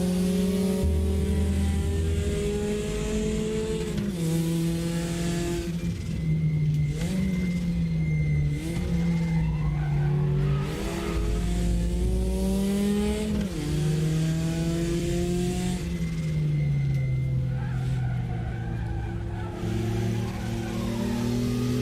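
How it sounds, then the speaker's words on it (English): A Porsche 944 turbo racing engine in a racing video game climbs through the gears in repeated rising sweeps, with turbo flutter between shifts, loud and sustained. "it's all that turbo flutter"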